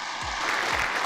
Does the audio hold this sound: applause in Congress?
yes